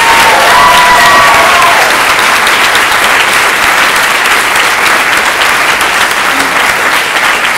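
A crowd applauds the speakers at a science debate, sustained loud clapping that holds steady throughout, with a brief faint voice near the start.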